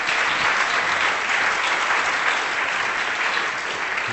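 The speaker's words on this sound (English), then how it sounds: "Can we have a round of applause for the panel" Steady, full audience applause for a discussion panel at a statistics talk, loud and continuous from start to finish with no voices over it.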